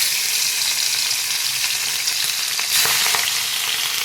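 Pabda fish pieces frying in smoking-hot oil, a loud continuous crackling sizzle close by that swells slightly as more fish goes in, with no talking.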